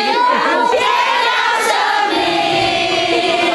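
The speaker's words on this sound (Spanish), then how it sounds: "Con cantos y aplausos, los médicos de Wuhan despidieron a un mal que parecía no tener fin." Wuhan hospital doctors seeing off the last patient: a crowd singing and cheering together, voices blending in sustained tones, fairly loud and continuous, with little distinct clapping.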